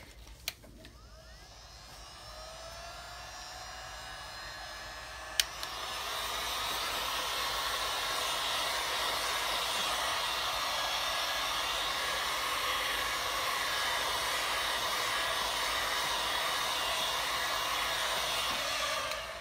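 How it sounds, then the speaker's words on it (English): A heat gun blowing hot air over resin turtle coaster molds, a steady loud whooshing hiss that starts with a click and holds evenly until it cuts off at the end. "Now I'm just going to heat this with my heat gun real quick."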